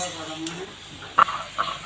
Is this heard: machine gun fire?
no